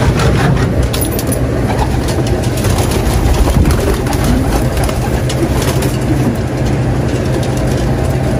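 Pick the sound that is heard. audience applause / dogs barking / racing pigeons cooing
racing pigeons cooing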